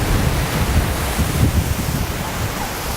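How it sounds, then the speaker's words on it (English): Gusty wind of up to 35 miles an hour roars across a microphone outdoors during a Missouri whitetail deer hunt, a steady broadband rush with low buffeting surges and no voices. "We got gusty winds up to 35 miles an hour today."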